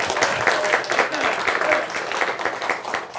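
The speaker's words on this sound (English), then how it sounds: "He was expecting some applause there." Moderate applause welcoming a guest, a rough patter of claps rising and falling in small waves with faint voices mixed in.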